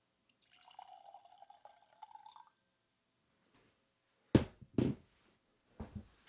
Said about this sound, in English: I'm going to try to pour this without knocking over my microphone.